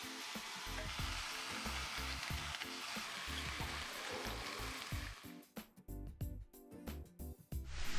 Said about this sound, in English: brush this glaze on our ham steaks and get them on the grill